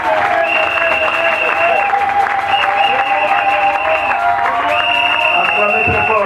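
A church congregation applauding and cheering together, loud, steady clapping from a large crowd throughout, with voices and a sustained tone over it.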